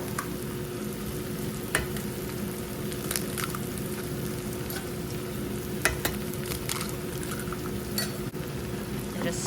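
Eggs topped with a handful of cheese fry in a pan while being stirred: a steady close sizzle with scattered scraping clicks from the utensil, and no talking.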